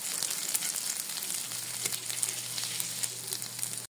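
Snail adobo (adobo na kuhol) sizzles steadily in a pan while being stirred, a dense continuous frying hiss with faint scraping and a low steady hum underneath, close and even throughout.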